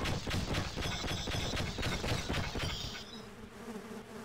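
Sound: bees weapon buzzing in the video game Sven Co-op

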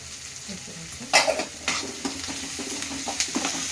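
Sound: onions frying with salt in a pan

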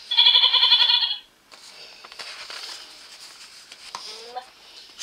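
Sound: young goat bleating

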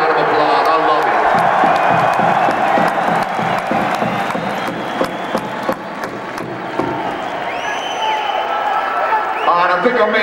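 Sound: concert crowd applauding and cheering

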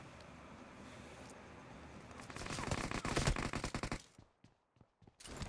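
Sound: gunfire in the video game BGMI, shooting a bot

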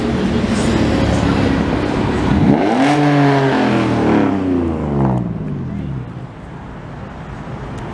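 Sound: Ford Mustang cars cruising past

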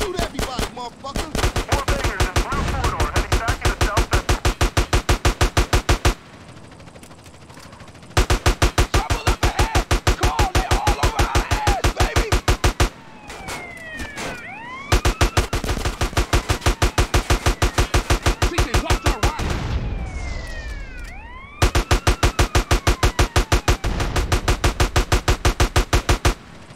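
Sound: gunfire in video game GTA San Andreas

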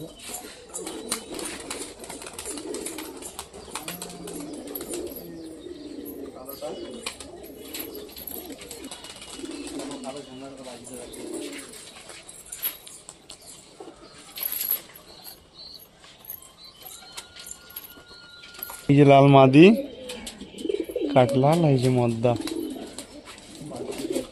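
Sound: pigeons cooing

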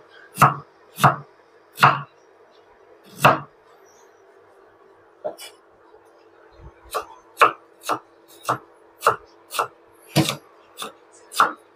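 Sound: knife chopping ginger

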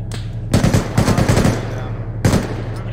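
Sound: gunfire from a jamming gun in the video game Arma 3

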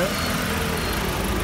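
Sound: 2003 Nissan X-Trail petrol engine running

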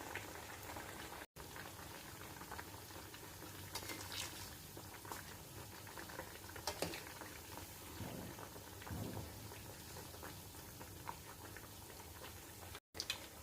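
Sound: potato bites deep frying in oil

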